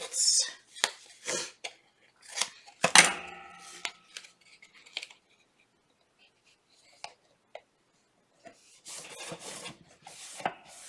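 A strip being cut down by hand for an 8x8 box craft project: a few short scraping, rasping strokes and light taps in bursts, close and fairly quiet, with pauses of near silence between.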